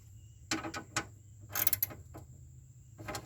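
Quiet clicks and ratcheting of a small socket wrench fitted with a 10mm extension while refitting a ram air intake, a few brief scattered mechanical bursts close by with pauses between.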